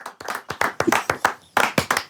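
Sharp hand claps, about nine close, loud strikes in a quick, slightly uneven rhythm, alone without talk.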